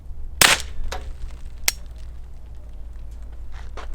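Gunfire during a road rage shooting test: one sharp, loud report near the start, followed by a couple of fainter cracks and snaps, then a quiet low rumble, heard close with no talking.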